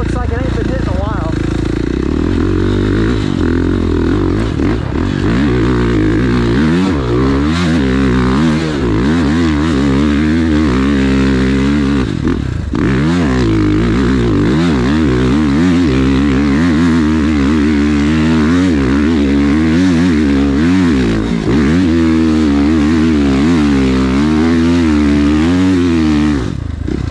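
Dirt bike with a Road Skulls Straight Shooter exhaust and a 14-tooth front sprocket climbs a steep hill, its engine loud and close throughout, rising and falling in pitch under heavy load. The rider talks over it.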